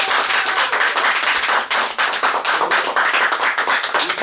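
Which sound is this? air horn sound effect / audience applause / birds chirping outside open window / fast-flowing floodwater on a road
audience applause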